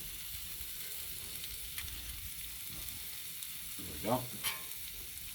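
Onions and brats sizzle faintly on a Blackstone griddle, a soft steady frying hiss with a couple of brief scraping stirs near the end and a short spoken remark.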